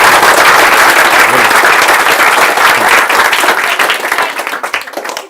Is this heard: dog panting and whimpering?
no